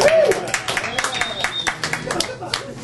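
An audience at a stand-up comedy show claps in scattered bursts that build into a spread of quick hand claps, mixed with a voice talking over the start.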